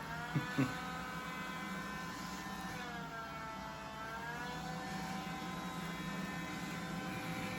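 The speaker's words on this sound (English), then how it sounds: "you can hear the vacuum motor, and you can hear the little squirting of it squirting out the water" A quiet, steady iRobot Scooba 200 mopping robot vacuum motor hum with layered whining tones drones throughout, with a couple of brief soft clicks near the start as it squirts water.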